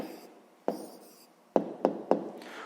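A pen taps and scratches across paper while an answer to a sixth-grade maths equation is written by hand. The sounds come as a few sharp, close strokes spaced irregularly in a quiet room.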